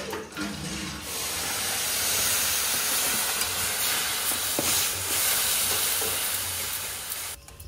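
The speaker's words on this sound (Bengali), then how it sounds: "এবারে এইভাবে নাড়তে নাড়তে জলটা একটু শুকিয়ে দিলেই সুজিটা হয়ে যাবে" Semolina (suji) being stirred in a pan with water as it cooks down in a home kitchen, a continuous loud hiss and sizzle with soft scraping of the stirring throughout.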